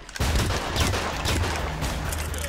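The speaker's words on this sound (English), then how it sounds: "Good semi-automatic, you get a lot of pop, a lot of action." Semi-automatic gunfire in Hitman: Absolution, a string of sharp shots fired in quick succession after a sudden start, steady and fairly close, with no talking over it.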